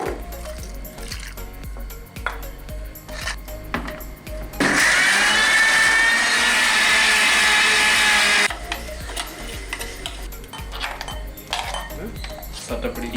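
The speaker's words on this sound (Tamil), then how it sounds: "இஞ்சியும் உள்ளியும் ஒன்றா சேர்த்து மிக்சியில் அடித்து போட்டு மசாலாவுக்கு மிக்ஸ் பண்ண போகிறோம்" Mixer grinder whirring loudly for about four seconds as it grinds ginger and garlic into paste, a steady high-pitched motor whine that starts and stops abruptly amid quieter kitchen clatter.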